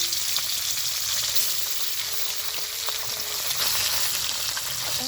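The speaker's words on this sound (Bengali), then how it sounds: "তেল গরম হয়েছে মাছের মাথা দিয়ে দিব" A fish head rubbed with turmeric and salt fries in hot mustard oil in a pan, making a continuous close sizzle and crackle with no talking over it.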